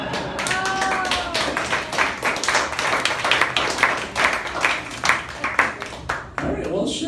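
An audience at a comedy show in a brewery comedy room claps in a sustained, dense burst of applause, with a few voices and cheers mixed in near the start.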